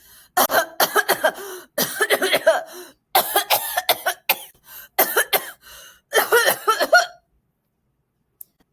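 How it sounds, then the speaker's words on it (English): Someone coughs in repeated harsh fits, several bursts in a row, close by, before the sound stops and silence follows. "How long have you had that cough?"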